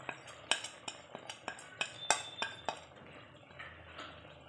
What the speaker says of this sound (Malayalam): ഇത് നല്ലതുപോലെ ഇളക്കി യോജിപ്പിച്ച് കൊടുക്കുക.